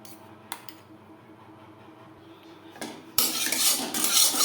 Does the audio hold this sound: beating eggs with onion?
yes